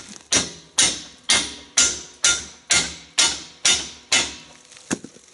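A hammer striking metal on a towable backhoe, about ten sharp, evenly spaced blows at a steady rhythm, loud and close with short ringing decay.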